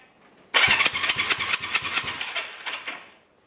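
A Honda CB360 motorcycle engine cranks over during a compression check, a rhythmic burst of about a dozen chugging strokes that fades as the starter winds down.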